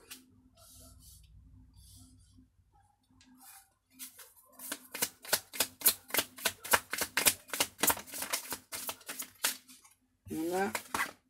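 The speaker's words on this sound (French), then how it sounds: "Je tire les cartes, ensuite je dis ok." Tarot cards are drawn and shuffled near the microphone, first with soft sliding and scattered flicks, then a rapid run of crisp riffling snaps, ending in a brief burst of cards. A voice speaks quietly in the background early on.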